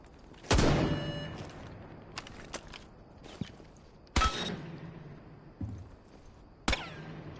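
Reaper MK2 sidearm fired in Rainbow Six Siege, heard as a handful of loud, sharp single shots spaced irregularly with quieter thuds and footsteps between them.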